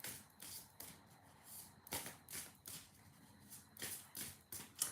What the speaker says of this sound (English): So I'm just going to start shuffling.